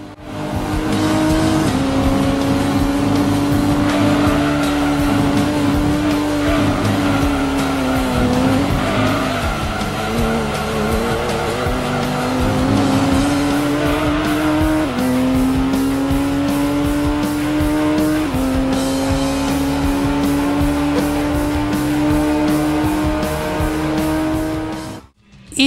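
A race car completes a quick lap in Gran Turismo, its engine loud and continuous, pitch climbing through each gear and dropping at the shifts, with tires squealing in the corners before the sound cuts off at the end.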